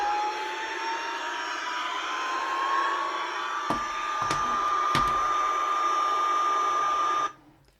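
A Fisher-Price space toy plays its takeoff effect, a steady electronic whir with a tone that slowly rises, interrupted by a few sharp clicks, then cuts off abruptly after about seven seconds.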